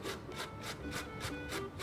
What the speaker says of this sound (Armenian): Ահա, քերում ենք կարտոֆիլը։